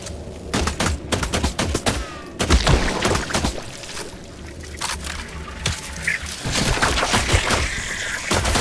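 Gunfire in the video game The Last Caretaker, rapid loud bursts and single shots crowding together with brief pauses, close and dense throughout.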